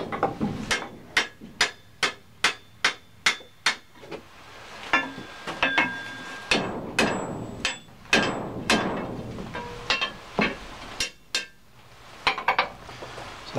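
A hammer strikes hot steel on an anvil during forge welding for a froe. Sharp, ringing blows come at an even, rapid rhythm in close-up, with short pauses between runs of strikes.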